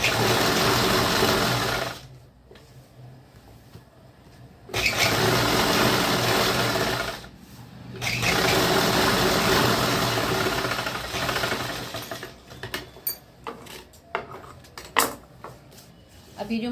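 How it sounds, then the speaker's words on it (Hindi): A sewing machine stitches a firm seam on semi-Patiala salwar fabric. Steady mechanical whirring runs in bursts with brief pauses, then gives way to lighter clicks and fabric handling. "एक स्टिच यहाँ पे लगा देते हैं। ये पक्की स्टिच लगाई जाएगी।"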